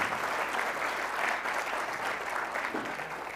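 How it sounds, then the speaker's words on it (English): A conference audience applauds at the close of a talk: steady, dense clapping from many hands fills the room and holds for the whole stretch without easing off. "we want to give him another round of applause for finishing ahead of time"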